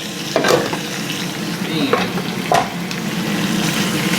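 Food tossed in a hot frying pan during rice meal prep, a steady sizzle with a few louder stirring scrapes and pan shakes, close and alone without talk.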